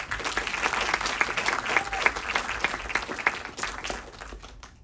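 Audience applause after a horror film screening Q&A, honoring the film's MVP, a dense, lively round of clapping that holds steady and then tapers off near the end.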